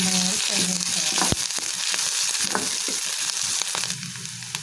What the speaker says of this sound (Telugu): అల్లం వెల్లుల్లి పేస్ట్ కొద్దిగా పచ్చివాసన ఫ్రై చేసుకోవాలి.